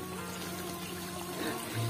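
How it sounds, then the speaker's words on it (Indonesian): A small stream or ditch carrying irrigation water toward sweet potato fields in Cilembu village, Indonesia, runs with a steady, continuous trickling flow heard close by, without pause, under a faint low hum. "Jadi airnya itu mengalir di area sungai kecil seperti ini sahabat, atau parit kecil ya tuh."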